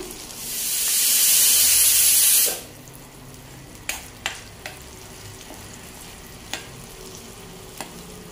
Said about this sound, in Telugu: ఇప్పుడు ఇది కొంచెం ఇందులోనే తాలింపు దినుసులు వేస్తున్నాయి, ఎందుకంటే ఇవి నూనె కాగి ఉంది కాబట్టి ఇందులోనే వేసేస్తున్నా.